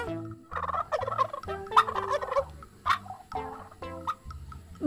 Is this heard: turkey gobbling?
yes